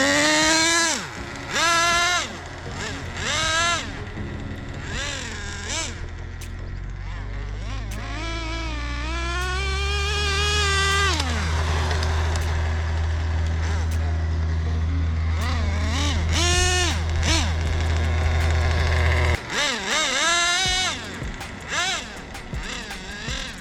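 A Traxxas Nitro 4tec RC nitro car screams through sharp revving bursts and sustained high-pitched runs, rising and falling as it accelerates and passes, with no talk.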